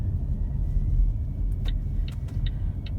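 Low engine rumble from inside a London taxi turning left onto Piccadilly, with a few faint ticking clicks over the steady drone.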